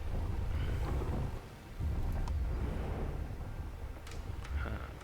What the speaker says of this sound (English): Light hailstorm.